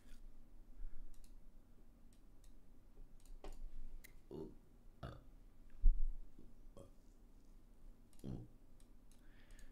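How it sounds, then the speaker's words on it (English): Higher-pitched burp sound effects for a dog video game, several short rough bursts scattered across the clip with small clicks between them, no voices. "Let's add those burp sounds."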